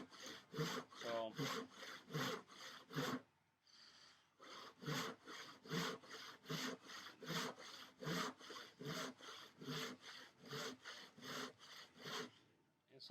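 A hand saw cuts through a wooden workbench top in steady, even back-and-forth strokes, close and clear, with a short pause partway through before the rhythmic sawing resumes.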